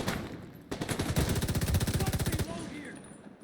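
The Royal Alloys Agitator firing in The Division 2, a sustained rapid burst of evenly spaced loud shots lasting under two seconds, with game ambience and a voice talking around it.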